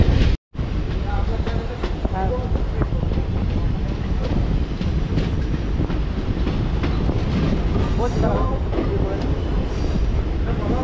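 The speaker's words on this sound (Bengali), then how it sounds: "তো এই দেখুন ট্রেনটা এখন বেঁকে বেঁকে এই জঙ্গলের দিকে মধ্যে ঢুকছে" A train runs along the Sevok–Rangpo railway line into forest, a loud continuous rumble with clattering wheels and wind buffeting the microphone, close and unbroken throughout.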